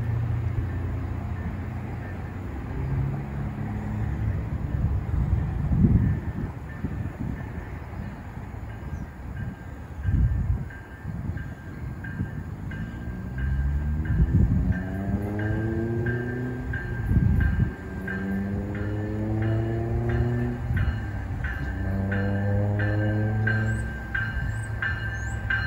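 A Long Island Rail Road train at Huntington station on a cold evening rush hour, its rumble and wheel noise rising and falling as it passes close by, with a faint voice now and then.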